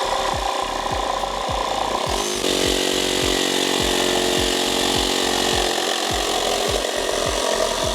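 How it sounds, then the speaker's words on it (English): A DeWALT jigsaw cuts through a wooden pallet plank, its blade buzzing loudly and steadily with a regular rapid stroke rhythm, close by and without talk. "So the beauty of the jigsaw is that you can perfectly align it, and you can get very fine cuts as well."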